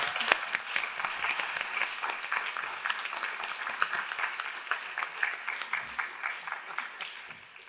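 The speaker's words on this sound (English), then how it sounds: "That was a round of applause, please." An audience at a children's literacy summit applauds steadily in a sustained round of dense clapping. Murmured voices mix in underneath.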